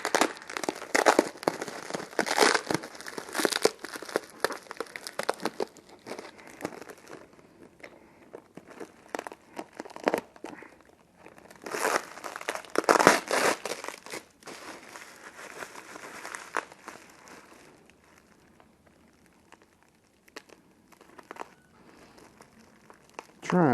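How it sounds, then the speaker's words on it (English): Packaging for Jones Racing Products Miata V8 oil-pump parts crinkles and rustles in uneven bursts as tape is cut, loud handling noises separated by quieter pauses, with someone talking at times. "Trying to cut this tape, but I don't want to go too deep and scratch anything."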